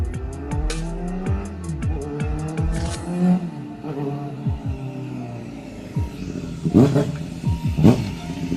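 Loud, close Kawasaki ZX-4RR sports motorcycle engine, fitted with a Yoshimura exhaust, revving in bursts, pitch swooping up and down with brief drops between throttle pulls.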